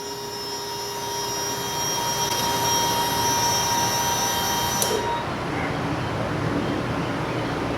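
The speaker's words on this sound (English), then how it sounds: "Fuel pump cycling." Electric fuel pump priming in a 1978 Toyota Corolla converted to EFI, a steady loud whine with tonal hum that cuts off abruptly partway through, leaving broadband background noise.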